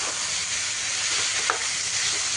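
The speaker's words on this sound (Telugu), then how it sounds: "ఇంత అల్లం పేస్ట్ అంతా ఇదంతా మంచిగా కలిసే వరకు అంతా కలిపేసుకోవాలి" Chicken with ginger paste sizzling in a pan while being stirred, a steady close hiss of frying with a faint scrape of the spoon.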